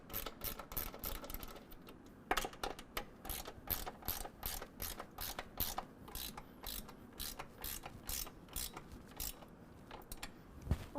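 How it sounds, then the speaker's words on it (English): A 13mm ratcheting wrench snugs down running board bracket bolts on a 2023 Ford F-250 while Go Rhino RB20 Slim boards go on, giving a steady run of quick, close clicking pawl strokes with no talk. "we're going to take a 13mm. I'm using a ratcheting wrench."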